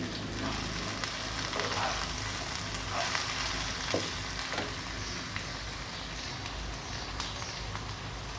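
Carrots and potatoes frying in a pan, a steady dense sizzle with occasional soft stirring scrapes, close and continuous with no talking.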